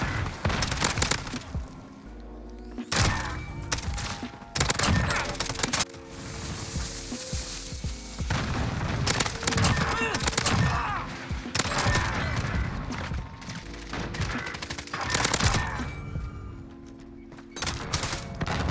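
Bizon submachine gun fire in Modern Warfare search and destroy rattles in repeated rapid bursts and a steady automatic stream, loud and close, with booms and other battle noise around it.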